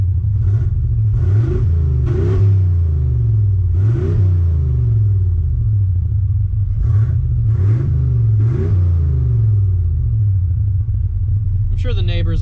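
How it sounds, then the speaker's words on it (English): An old truck's loud engine revs repeatedly, rising and falling in pitch over a steady rumbling idle, heard up close with no talking. "Give this girl a couple good revs, you know, to clean her out."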